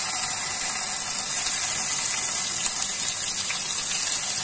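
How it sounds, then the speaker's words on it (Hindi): Paneer pieces go into hot ghee and fry with a steady, dense sizzle and hiss, close and continuous throughout. "घी जो है वो अच्छे से गर्म हो चुका है। अब मैं इसमें ऐड कर देती हूँ पनीर के टुकड़े।"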